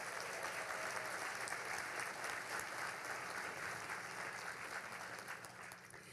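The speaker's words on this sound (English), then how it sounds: "Can we get a big round of applause for Northwest Passages and Spokesman-Review?" Audience applause at a Get Lit literary event, a continuous wash of many hands clapping, fairly distant and soft, tapering slightly toward the end.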